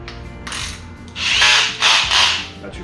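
Kobalt 24V cordless drill spinning in short bursts, a lighter run first and then two louder, longer whirs close by as it switches between forward and reverse, with faint clicking between.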